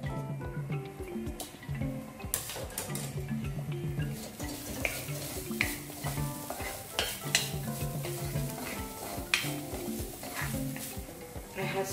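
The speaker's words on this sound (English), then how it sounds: "Stop frying the dhania." Dry coriander seeds being stirred and scraped around a hot pan, crackling and rattling steadily throughout, close up with no talking.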